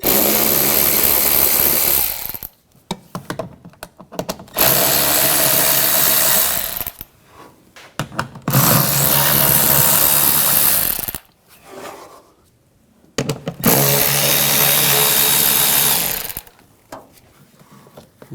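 Bolts come off the cabin filter cover of a 2009-2013 BMW 328i xDrive with an 8mm socket on a power tool, in three loud whirring bursts separated by short pauses and quiet handling clicks, with no voice.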